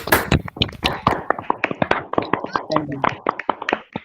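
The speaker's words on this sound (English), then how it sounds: "just request you all to unmute yourself and give Dipanjan the round of applause" Scattered, uneven clapping from an online audience unmuting on a video call after a students' physics journal club talk, with overlapping voices talking throughout.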